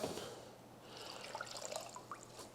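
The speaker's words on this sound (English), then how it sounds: "So I'll put a 3/4 cup of vinegar in." Vinegar pours into a container for mustard beans as a faint, close liquid trickle with soft splashing, running quietly throughout with no talk.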